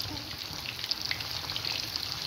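Cauliflower koftas fry in hot oil with a dense, even crackling sizzle, close and steady throughout, with tiny bright pops scattered across it.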